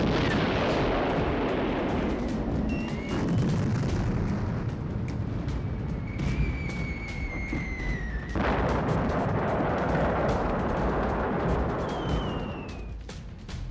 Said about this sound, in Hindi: आसमान से गिरे 30 टन के यमदूत ने जब जमीन को छुआ तो ऐसा लगा जैसे कोई छोटा परमाणु बम फटा हो